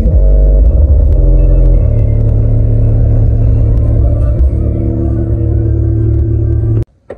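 Deep, booming bass from an installed car music system, played with the trunk open, loud and steady, then cuts off abruptly just before the end.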